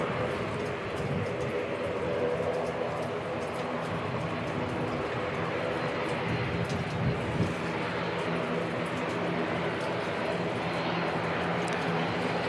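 Air New Zealand flight NZ5858 bound for Nelson departs Christchurch Airport, New Zealand, in wet and windy weather, its engines a steady, loud, broadband roar sustained throughout with wind noise.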